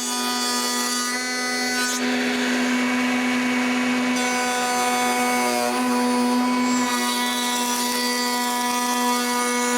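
A power saw cuts wooden uprights for a bookcase against stop blocks, with a loud, steady whine that surges into bursts of rough cutting noise as the blade passes through the wood.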